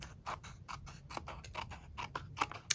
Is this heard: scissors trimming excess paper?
yes